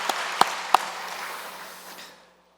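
Applause from a church congregation at a Sunday service sounds in a diffuse wash of clapping, broken by a few sharp louder claps early on, then tapers off and stops after about two seconds.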